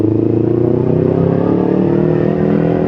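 A motorcycle engine running on Shell Advance AX7 oil holds a loud, close, steady drone with a faint rhythmic pulse, the pitch rising a little as the revs climb.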